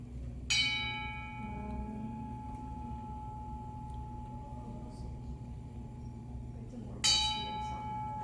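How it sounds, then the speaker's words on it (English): A steel and tin-bronze difference tone bell struck twice, several seconds apart, each strike ringing out with bright overlapping tones, two notes heard together, and a long sustained hum, close and clear. "when you hear a difference tone bell, you hear kind of two notes"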